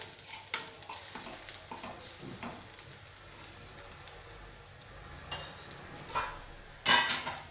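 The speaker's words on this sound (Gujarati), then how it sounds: "આપણે મરચું અને આદુ એડ કરીશું મરચાંના પીસ કરેલા છે અને આમને પણ થોડીક માટે સતળાવા દઈશું" Chili pieces and ginger sautéing in a pan, with scattered clinks and scrapes of stirring over a low sizzle, louder utensil knocks near the end.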